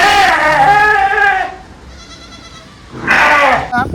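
Sheep and lambs bleating on a farm, two loud, close wavering bursts separated by a short quieter pause, with a brief softer call at the end.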